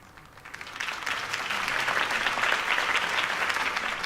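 Crowd applause in a Batman Telltale video game scene, following Harvey Dent's campaign speech: dense, sustained clapping that swells in the first second and then holds steady and full.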